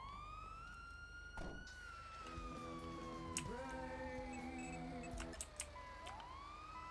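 A police car siren left running in the game GTA V on the NoPixel server wails continuously in slow falling and rising sweeps, steady and fairly close, with occasional thumps and other game noises underneath.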